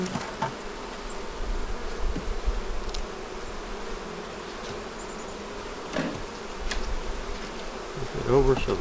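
Honeybees drone steadily around a hive with a screened bottom that is being readied for winter, a close, continuous buzz broken by a few soft handling knocks.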